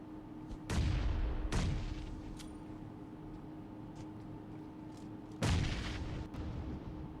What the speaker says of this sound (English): Izaz is gonna respond back with a nade himself.